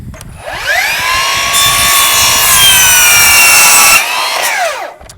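A power saw cuts through a length of crown molding, spinning up and biting into the wood with a loud, sustained whine for a few seconds before winding down, with no talking.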